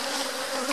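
A dense, steady buzzing of many honeybees around an open hive close by, continuous and fairly loud throughout.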